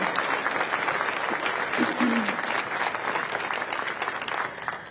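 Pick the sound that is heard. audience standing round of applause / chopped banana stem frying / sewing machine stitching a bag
audience standing round of applause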